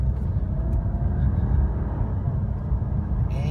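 A 2006 BMW 750iL cruising along, its low, steady road rumble and engine drone filling the cabin evenly from start to finish, with no voices.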